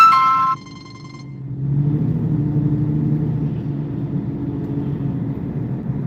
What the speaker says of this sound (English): 4014 is literally just right behind me